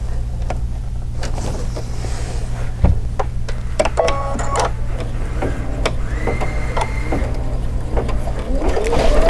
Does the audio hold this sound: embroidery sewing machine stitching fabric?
yes